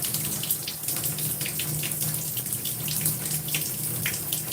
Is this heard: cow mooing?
no